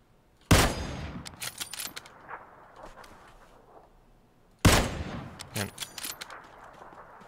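Automatic gunfire in PUBG with heavy recoil: two separate sharp bursts of rapid shots, each with a loud first crack and trailing echoing reports, close and loud over quiet gaps.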